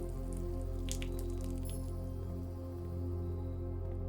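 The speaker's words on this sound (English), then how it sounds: "Just pour some water out in the tiles." Water poured out onto tiles in the video game Blue Prince, heard as soft dripping and splashing over a steady low hum of game music.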